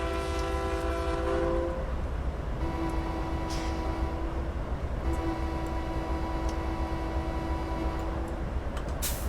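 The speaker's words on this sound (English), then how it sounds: "I just love the horn from the outside." Locomotive horn in Train Simulator 2019 on Cajon Pass, heard from outside: a loud, sustained chord blast of about two seconds, a short gap, then a second long blast over a steady low rumble of the moving train.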